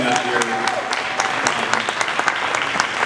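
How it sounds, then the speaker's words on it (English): An audience at a Patriots of the Pandemic gathering breaks into warm applause for a speaker, a dense, steady patter of many hands clapping at moderate loudness throughout. "And a round of applause for Lisa."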